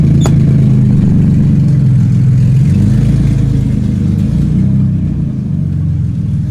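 A BMW E30 with a swapped S52 engine and open headers runs very loud and close, a deep steady rumbling idle with slight wavering in pitch, dominating the scene without talk.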